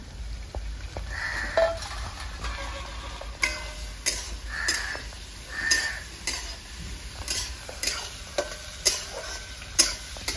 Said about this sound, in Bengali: টমেটো, লঙ্কা, পেঁয়াজ একটু হালকা ভেজে নিয়ে আমরা এটাকে কিন্তু পেস্ট করে দেব।